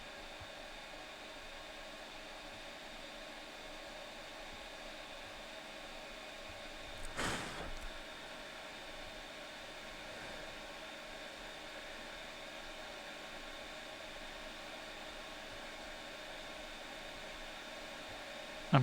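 Hot air from a rework gun heats the solder on an Xbox One controller board, giving a quiet, steady blowing hiss. A short louder scrape of handling comes partway through.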